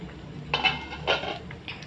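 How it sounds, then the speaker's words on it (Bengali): A lid lifted off a cooking pot of sambar gives a few short metallic clinks and scrapes, close and fairly quiet, in small bursts with brief pauses between them. "ঢাকাটা খুলে নিচ্ছি।"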